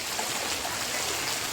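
Floodwater after heavy rain rushing through the main lane of a village, a steady broad roar of flowing water, close and continuous, with no voices.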